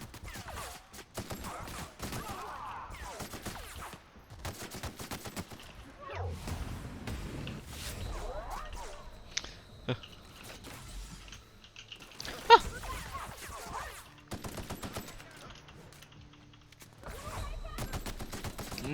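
Assault rifle fire in the sci-fi shooter game The Outer Worlds comes as repeated bursts of rapid shots, moderately loud, mixed with other game effects and a voice speaking at points.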